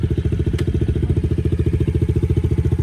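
A Yamaha TTR dirt bike engine runs steadily and close by, with a fast even thumping rhythm and one brief metallic click partway through, no voices over it.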